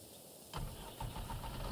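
A telehandler engine cranks briefly and fires, settling into a rough, rumbling idle close by on a greenhouse farm.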